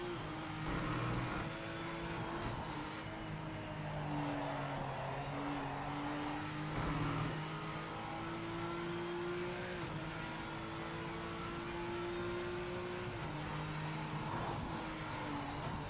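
A TVR race car in the racing game Project Motor Racing, its engine revving up through gears in a rising and falling whine with shifts, short tire squeals at moments, steady and close without talk.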